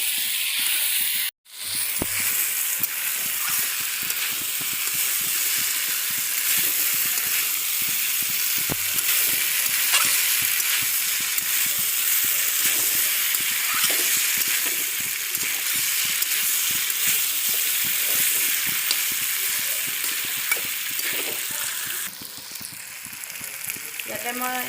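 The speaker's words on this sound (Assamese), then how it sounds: "এইখিনি অকণমান এতিয়া ভাজি থাকি সিজালৈকে ভাজি" Pumpkin pieces fry in a pan with a steady, soft sizzle and hiss lasting throughout, broken by a brief clatter near the start and a faint voice in the background.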